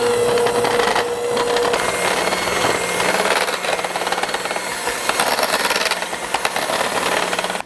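Cream cheese frosting ingredients, including powdered sugar, are mixed in a loud, continuous whirring and grinding that runs steadily throughout with no pauses or speech.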